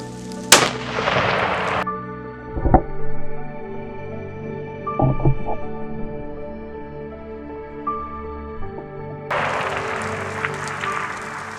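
A 300 Win Mag rifle fires at a 700-yard outdoor range, with a few sharp, loud reports separated by long quiet gaps and bursts of wind-like noise at the start and end.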